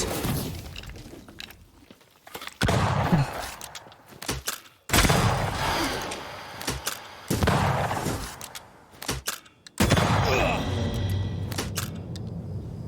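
Weapon fire in the video game Banishers: Ghosts of New Eden, sharp loud bursts and cracks separated by brief silences, mixed with game sound effects and someone talking over them.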